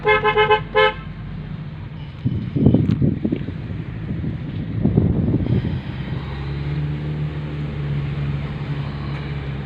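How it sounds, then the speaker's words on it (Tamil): A vehicle horn toots in a short burst at the start, followed by engine rumble and wind noise from a moving vehicle. "ஹார்ன் அடி மச்சான்."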